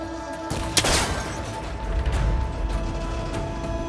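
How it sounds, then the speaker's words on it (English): Gunfire in the game Horizon Forbidden West as a cable connector on an ancient rickety tower is shot, a sharp crack with a short burst of impact noise, then rumbling mechanical clatter and low thuds. "That connector's holding the cables together. It should break if I shoot it."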